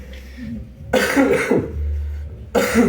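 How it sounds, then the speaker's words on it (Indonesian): Two loud, close coughs a moment apart, with some throaty rasp between them. "Saya lagi batuk ini."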